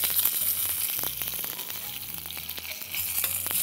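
Onions sautéing in a pan, a loud crackling sizzle with busy stirring scrapes and taps, close up and steady throughout.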